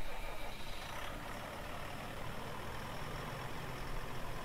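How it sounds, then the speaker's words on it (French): Fendt 820 tractor engine in Farming Simulator 19, a steady low diesel rumble running continuously at even loudness with broadband hiss, no voices over it. "il a un vrai son de Fendt 800 de cette génération là"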